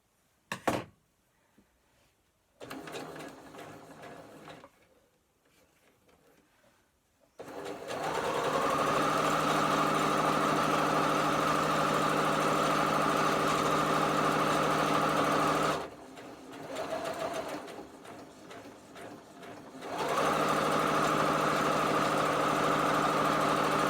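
A Butterick EB6100 sewing machine stitching a garden cushion, running in loud steady bursts with a whirring motor hum, stopping briefly between runs and starting again, heard close with no talk.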